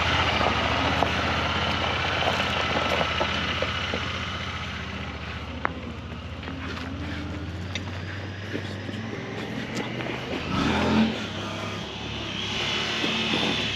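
A Honda Pioneer 1000 UTV engine runs steadily during a test drive in the dark, a continuous low rumble with faint rattles and a brief rise near the end, as people talk in the background.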